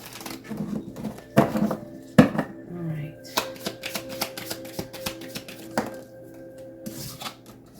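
Tarot cards being shuffled by hand, a series of sharp riffling bursts and clacks at irregular intervals, close and fairly loud, with a voice speaking briefly among them.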